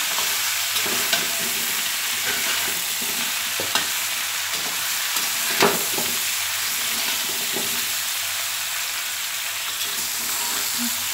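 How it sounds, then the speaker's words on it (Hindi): A sweet mango pickle mixture is lightly roasted in a pan, with a constant loud sizzle and hiss and occasional soft scraping strokes of a spoon, heard alone. "इसको तो हल्का भून लेंगे"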